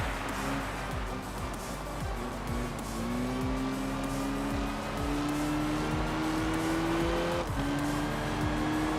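Race car engine revving in the Enthusia Professional Racing video game on a point-to-point desert track, loud continuous engine whine with rising pitch and shifts, tires squealing through a turn, no talk.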